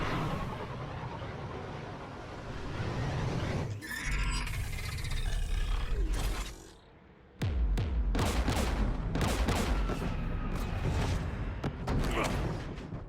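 A Mass Effect 3 attack near a Geth jamming tower, with anti-aircraft guns firing. Loud, rumbling battle noise gives way to bursts of sharp cracking shots. A brief quiet dip comes before the gunfire resumes, dense and repeated.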